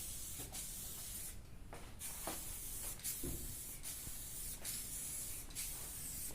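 Aerosol paint sprayed from a tin onto the bonnet of a Land Rover Discovery 2 Td5 in a DIY paint job: a steady close hiss with several brief pauses and restarts between passes, no talking.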